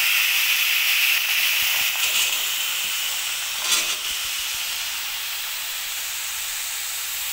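Peas, green chillies and beans dropped together into a hot wok, a loud hissing sizzle that bursts at first and gradually settles into a steady, softer hiss, close by with no talking.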